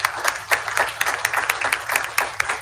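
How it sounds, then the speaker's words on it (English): School board meeting audience applauding a student team, a dense burst of many hands clapping across the room, steady and moderately loud for a few seconds with no voices over it. "let's give them another round of applause."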